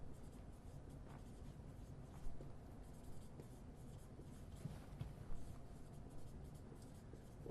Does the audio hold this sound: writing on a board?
yes